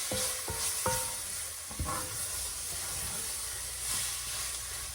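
Chopped vegetables sizzle in a pot over just-under-medium heat while building a shrimp and potato stew, a steady close hiss with a few sharp utensil clinks early on.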